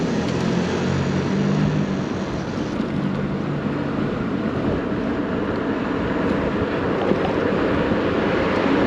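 Strong wind blows by the ocean, a loud steady roar of gusts buffeting the microphone over distant surf, continuous throughout with no voices.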